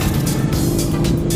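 A car goes by on a city street beside a wide bike lane, a steady engine and tire rumble that holds loud and close for the whole moment.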